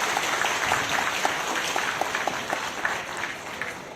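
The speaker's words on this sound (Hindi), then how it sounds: "उन सब के लिए एक जोरदार ताली से स्वागत किया जाए" An audience at an International Women's Day celebration breaks into dense, enthusiastic clapping that holds steady for a few seconds before slightly tapering.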